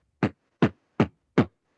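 A human voice imitates a kick drum in beatboxing: four deep, punchy bass thumps spaced evenly, each a short booming burst with silence between, close and clear.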